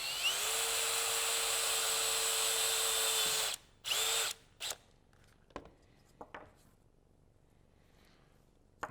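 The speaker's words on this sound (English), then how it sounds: "we're going to drill through the top of it" A power drill with a 7/32 bit boring through an M1A rifle stock: a loud, steady high whine for a few seconds, then short bursts and scattered clicks and knocks as it stops.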